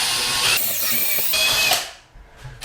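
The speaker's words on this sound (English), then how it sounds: "We wind the small drill in first." A small drill bit winds into a hard silky oak window frame in an old house, whining loudly and steadily up close for under two seconds, then cutting off abruptly and leaving quiet.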